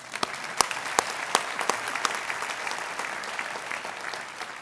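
A graduation audience for a recruit class claps in a steady wash, with a few sharper individual claps popping out near the start, moderately loud and continuous throughout.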